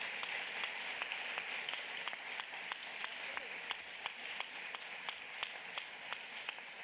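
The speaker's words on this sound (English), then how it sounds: "You can applaud her." Audience applause at an evening event at a university's journalism school, a steady, fairly soft round of clapping from a crowd with occasional crisp individual claps, lasting throughout without voices.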